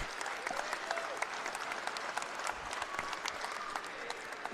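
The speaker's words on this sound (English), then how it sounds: "Parker was given a nice round of applause and a plaque along with Mr. Work" Steady applause from a sizable crowd at a college men's basketball game honoring players, dense clapping filling the whole stretch with a few sharper claps standing out, moderately loud and continuous.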